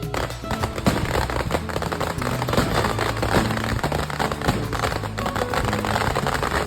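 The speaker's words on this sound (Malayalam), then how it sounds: "ചെറിയ രീതിയിൽ പടക്കങ്ങളെല്ലാം പൊട്ടിച്ചു തുടങ്ങി" Dense, continuous crackling of firecrackers bursting in rapid overlapping pops at a temple during Pongal, loud and close, with no pause for the whole stretch.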